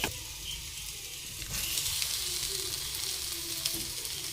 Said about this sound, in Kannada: ಈಗ ನುಗ್ಗೆಕಾಯಿ ಸೊಪ್ಪು ನೀಟಾಗಿ ಫ್ರೈ ಆಗಿದೆ.